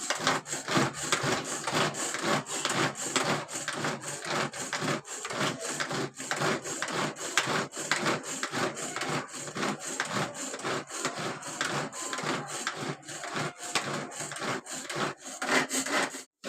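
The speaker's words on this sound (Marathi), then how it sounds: "बघा टोमॅटो बारीक करून घेते" A knife finely chops tomato on a cutting board in a home kitchen, fast rhythmic scraping strokes that repeat steadily and close up.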